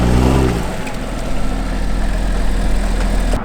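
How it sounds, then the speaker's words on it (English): A 500-horsepower BMW engine fires up from semi-cold, opening with a brief cranking churn before catching into a steady, fairly loud idle rumble that stays close and even. "here's a semi-cold start"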